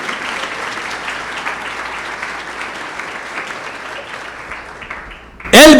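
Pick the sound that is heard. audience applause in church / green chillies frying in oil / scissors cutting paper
audience applause in church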